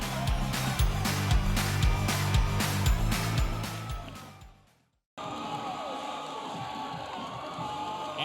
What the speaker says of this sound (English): Ashton Hurd giving them something to cheer about here on the home side.